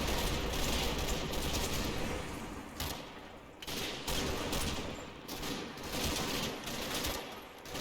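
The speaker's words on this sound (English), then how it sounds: "I'm getting caught in enfilade fire" Heavy sustained gunfire from the wargame Combat Mission, with SS troops pushing a defence line under enfilade fire; dense overlapping rifle and machine-gun bursts fill the whole stretch, loud and continuous with brief lulls, no voices.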